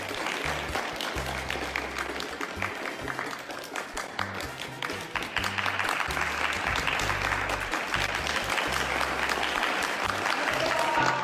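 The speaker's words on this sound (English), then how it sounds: "All his friends and the entire school applauded as he performed with such flair and skill." A school crowd applauds a ball-trick performance with sustained, dense clapping, while music with a thumping low beat plays underneath throughout.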